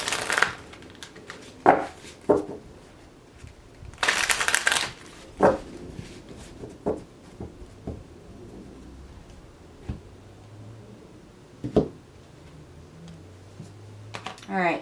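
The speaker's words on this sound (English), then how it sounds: "All right, two more shuffles." A deck of tarot cards is shuffled in a few short, papery riffling bursts, with one louder flurry in the middle, while a person talks through most of the stretch.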